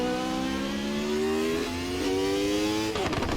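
A 1991 Formula 1 car engine in Assetto Corsa revs in a steady high whine that climbs in pitch, then drops sharply as a gear changes near the end, loud and close with no talk.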